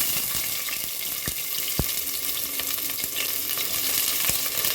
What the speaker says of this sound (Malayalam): അതിലേക്ക് നമുക്ക് സബോള ഇട്ട് കൊടുക്കാം.